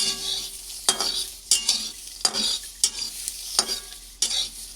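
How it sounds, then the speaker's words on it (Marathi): Pigeon pea seeds being roasted and stirred in a pan, with a soft sizzle under rhythmic scraping strokes of a spatula, about six distinct scrapes, close and clear with no voices. "तुरीचे दाणे छान असे भाजून घ्या"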